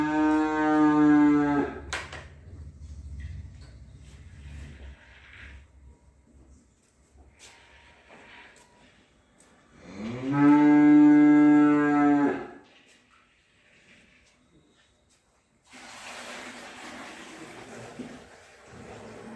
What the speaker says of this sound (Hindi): ये जोर जोर से बोल रहा पानी के लिए।